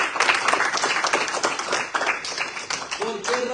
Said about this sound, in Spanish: Denle un aplauso a Yahweh por eso